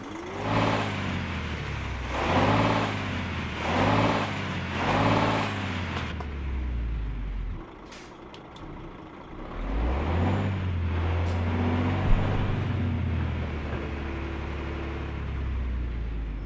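A DAF heavy truck engine in Euro Truck Simulator 2 revs hard in three surging pulses, drops to a low idle, then rumbles back up into a steady, droning run.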